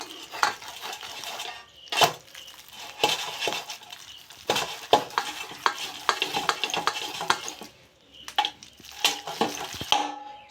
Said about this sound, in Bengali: সেই গ্রেটারটা দিয়ে আমি ঘষে নেব।